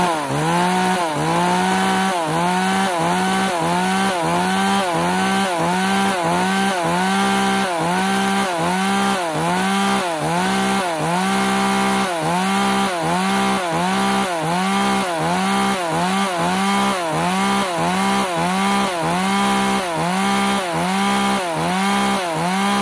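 Used Japanese Hitachi chainsaw running on a test, its two-stroke engine blipping in a steady, rapidly repeating rev pattern, loud and close for the whole stretch with no talking.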